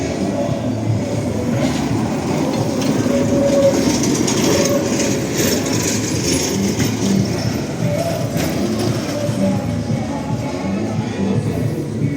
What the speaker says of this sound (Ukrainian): Трамвайчик на два.